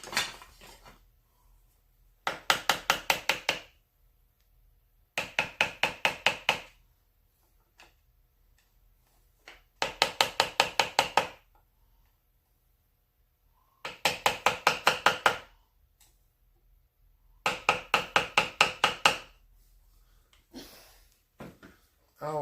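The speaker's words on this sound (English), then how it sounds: "Find my little hammer." A small hammer taps in rapid bursts of sharp metallic ticks during a McCulloch 7-10 chainsaw oil pump repair, with each volley of about eight strikes separated by pauses, close and crisp.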